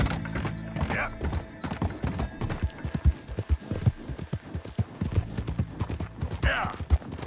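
A horse in Red Dead Redemption 2 trots with rhythmic hoof clops and occasional jingling tack, while someone talks over the steady beat of hooves.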